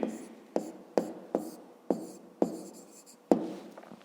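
Pen writing by hand while recording a 3 kg scale reading in a fifth-grade maths exercise, heard as close, dry scratching strokes with sharp taps at regular intervals, about seven distinct strokes with no voice.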